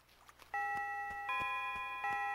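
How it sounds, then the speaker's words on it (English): Chiming 5 PM bell from the Animal Crossing Wild World video game, a bright sustained electronic tone that rings steadily, stepping up in loudness twice, over soft repeated ticking beats. "we hit the 5 PM bell"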